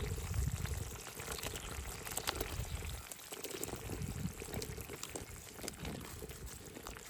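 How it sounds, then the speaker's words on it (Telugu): Double beans tipped into a simmering curry pot in a village-style kitchen, a steady broadband rattle and patter of dropping seeds over the bubbling of the dish, close and continuous without speech. "అలాగే ఈ డబల్ బీన్స్ పిక్కలన్నీ ఇందులో వేసుకుందామండి"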